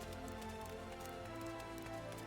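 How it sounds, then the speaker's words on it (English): Rain falling in the game Final Fantasy XIV, a steady, dense patter that stays even throughout, soft and continuous with no talking over it. "It's raining here."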